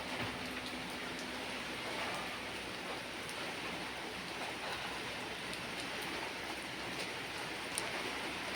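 Steady rain falling outdoors on a windy, cloudy morning among trees, an even, unbroken wash of patter with no distinct drops standing out and no talk.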